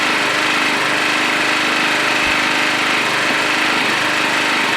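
A Murray Select lawn tractor engine runs at full throttle after a muffler and exhaust pipe weld repair, a loud, steady, buzzing drone close by with no other sounds.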